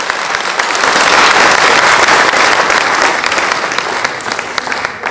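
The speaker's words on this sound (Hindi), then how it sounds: "अगर मैं सही हूँ तो एक बार जोर से तालियां बजा दीजिए।" Loud, dense audience applause fills a hall after a staging of Dinkar's Rashmirathi by a Patna cultural troupe, sustained steadily throughout with no pause.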